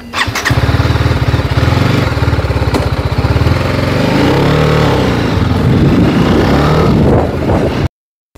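A motorcycle engine thumps loud and close in a fast, even idle pulse, then revs and changes pitch as the bike pulls away, ending abruptly, with no speech.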